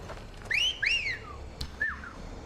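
Two rising-falling whistle calls summon a horse in Final Fantasy XVI, loud and close, followed by a click and a shorter third whistle note, with no talking.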